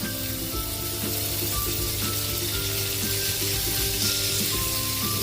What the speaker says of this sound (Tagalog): ipapray natin yung ating pork, liver.